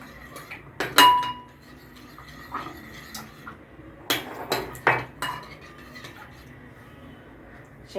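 Crispy chicken strips get tossed together in a bowl, giving a few sharp clinks and knocks of utensil against dish among softer rustling, close by with gaps of near quiet.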